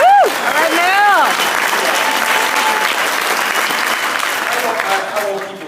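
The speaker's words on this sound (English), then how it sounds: "Let's give a big round of applause." Loud applause from an audience at a company regional event, with whoops and cheers rising at the start, then steady clapping that slowly tapers.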